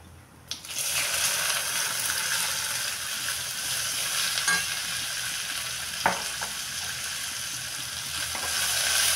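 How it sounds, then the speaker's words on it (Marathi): Okra fries in hot oil with asafoetida, curry leaves and turmeric in a kadhai, giving a steady, loud sizzle with a few clinks of stirring and no talk. "आता ह्याच्यामध्ये आपण भेंडी घालूया."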